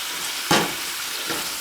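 Oil sizzling in a pan on a stove flame, likely canola, with a soft steady frying hiss and two brief louder bursts of crackle, the first stronger than the second.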